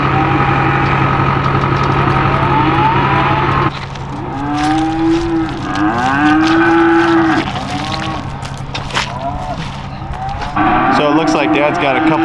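Several cows moo loudly and close by in a farm pen holding heifer calves on a foggy day, long drawn-out calls repeating one after another over a steady low engine idle.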